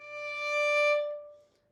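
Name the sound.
violin playing a D natural note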